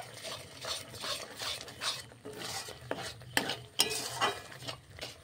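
A spoon stirs masala gravy seasoned with salt and sugar in a pan for masala bhindi, giving soft repeated scraping strokes with a few sharper metallic clinks against the pan and a faint sizzle underneath.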